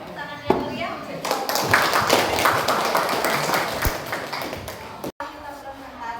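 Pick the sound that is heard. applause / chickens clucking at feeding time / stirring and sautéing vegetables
applause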